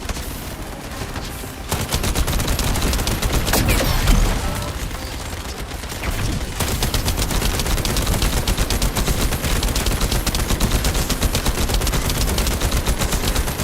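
Dense, relentless enemy gunfire from The First Descendant, loud rapid bursts of automatic fire that briefly thin out and then resume into a near-constant barrage.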